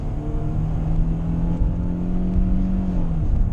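A Mercedes W124 accelerates hard from inside the cabin, its engine drone rising steadily in pitch as it pulls toward sixty, loud and continuous with no talk over it.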